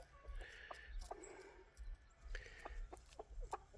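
Backyard coop hens, including an Easter Egger, clucking softly in short scattered bursts, with faint chirps, quiet and a little distant, no talking.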